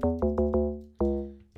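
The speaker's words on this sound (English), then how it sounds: "now guys, we're gonna combine it with a log drum" Log drum from the Samy Beatz log vibe preset in Fruity GX10, used in an Afrobeats beat: a run of four punchy, deep plucked hits with quick decay, a pause, then a longer ringing hit, loud and alone.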